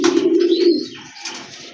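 A pair of Lahori pigeons coos close by in a short, loud, throaty burst that trails off into softer chirps, with no one talking.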